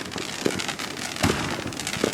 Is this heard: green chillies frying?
no